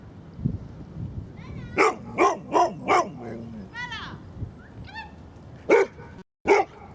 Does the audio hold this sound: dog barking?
yes